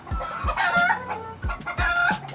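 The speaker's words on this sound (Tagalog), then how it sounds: "Ingay ng mga manok." Several chickens cluck loudly and close by in short, repeated bursts, with a few squawks mixed in and no talking.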